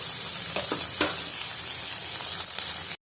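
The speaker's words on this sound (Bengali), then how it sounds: "এবার আমি আদা আর রসুনটাকে কোটা করে দিয়ে দিয়েছি। এটা একটু কিছুক্ষণ কষিয়ে নেব।" Chopped ginger and garlic frying with onions in a hot pan, a steady dense sizzle with a few soft scrape strokes of stirring near the start, heard up close with no talking.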